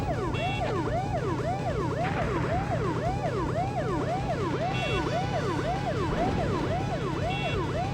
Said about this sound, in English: hope you guys like the sound of sirens